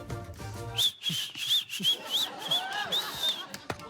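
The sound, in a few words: professional whistling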